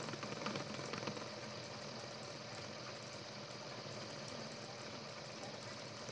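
A Bedini motor spins down after being spun up, giving a faint, steady whirring hum with a low rumble underneath, continuous and fairly quiet throughout with no talk.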